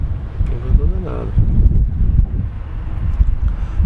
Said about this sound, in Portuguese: É um ventão danado.